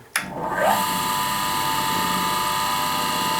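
A Raimondi Exploit 120 L Italian tile cutter switched on, a click followed by the motor whining up to speed and then running in a steady, fairly quiet drone.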